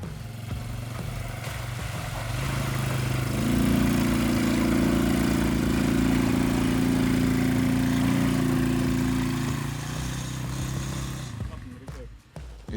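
A Scout 2x2 ATV motorbike engine revs up and holds a steady, loud drone while crossing a deep puddle with a swampy bottom, then eases off near the end.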